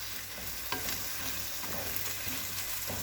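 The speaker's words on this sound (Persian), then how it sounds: "گوشت چرخ کرده رو می‌ریزیم کاملا سرخ بشه" Ground meat sizzles and fries in a pan while being stirred, a close, steady crackle with occasional scraping strokes and no voices.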